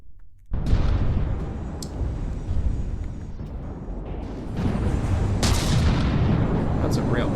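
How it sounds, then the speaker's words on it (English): A railgun firing in the From the Depths naval combat game: a loud, sudden, heavy blast that starts abruptly, followed by a sustained roaring rumble and a second surge of crackling noise. "That's a railgun."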